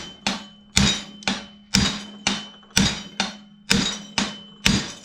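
A metal exhaust pipe for a twin-turbo Ford F100 is hammered into a corner, with about ten sharp, ringing metallic blows at a steady, fairly quick rhythm, close and loud, and no talking.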